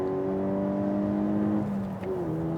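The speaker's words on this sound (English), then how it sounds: "There's a little membrane in the dashboard that amplifies the engine noise into the cabin" A Peugeot RCZ sports car engine holds a steady rising drone, then revs up above 4,000 RPM with a brief shift in pitch, loud and close, with no voices.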